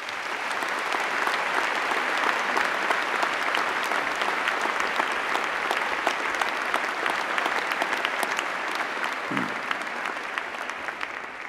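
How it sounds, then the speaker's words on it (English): Steady, full applause from a large graduation ceremony audience, dense clapping that holds at an even level with no talking over it. "Please give them all a huge hand of applause."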